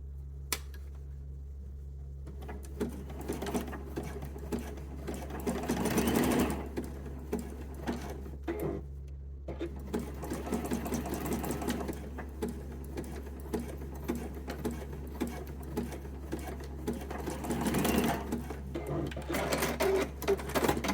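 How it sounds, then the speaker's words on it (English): A sewing machine stitches bra straps in a low, continuous mechanical hum with a rapid ticking needle rhythm, fairly quiet and close, with a steady low drone underneath and occasional brief speech. "we're going to stitch to hold that in place"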